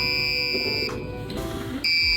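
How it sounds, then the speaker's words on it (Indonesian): A shrill electronic buzzer driven by an Arduino plays a few short musical notes at changing pitches, with brief pauses between notes, loud and close. "Suara dihasilkan dengan menghubungkan pin output Arduino dengan buzzer."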